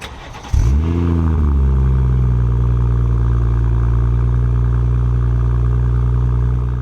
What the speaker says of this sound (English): So if we're to start this car with the valve closed, it will sound like this.